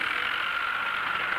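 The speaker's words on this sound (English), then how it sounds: "mowing this field with this tractor" A 63 HP narrow front farm tractor runs steadily while mowing a field with a brush hog, giving a constant, even drone with no breaks or changes in level.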